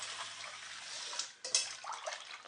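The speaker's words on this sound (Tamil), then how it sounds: "திருப்பி இன்னொரு தடவை அலசுறேன்." Mutton pieces are rinsed by hand in water in a home kitchen: a faint, continuous swishing and trickling with small splashes and a brief pause midway, no talking.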